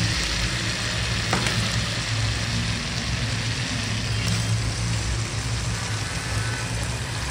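Chicken pieces dropped into hot oil and spice masala for Bengali chicken kosha, giving a steady, close sizzle and crackle that holds evenly throughout, with faint low rumble underneath.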